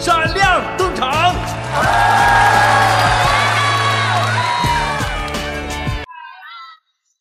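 A crowd cheers, whoops and shouts loudly as the JC group is called onto the stage, with sustained high-pitched yelling that fades out near the end.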